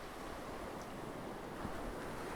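Ocean waves roll continuously in a steady, dense wash of surf noise, with no pauses, sharp sounds or voices.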